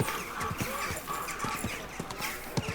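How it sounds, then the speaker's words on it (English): Horse hooves clip-clop on the ground in the medieval video game Kingdom Come Deliverance II, a steady run of close, regular clops with voices speaking over them. "keep your horse under control?"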